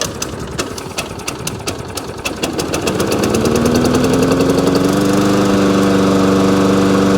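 A Hayter push lawn mower engine, recently tipped up and on choke, is pulled over with rapid sputtering pulses that catch and build into a loud, steady running drone close by.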